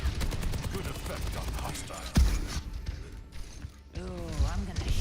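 Rapid gunfire in the shooter game Overwatch 2, a dense rattle of shots through the first two seconds, then thinner game effects and a rising whoosh-like tone.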